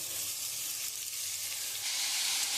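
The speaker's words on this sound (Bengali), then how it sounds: "একটু মশলাটা দিয়ে কষিয়ে নিয়েছি, এবার আমি মোচাটা দিয়ে দেবো" Chopped banana flower dropped into spices frying in a pan for a chickpea and banana flower dish hisses loudly, a strong continuous sizzle that holds steady and swells slightly near the end.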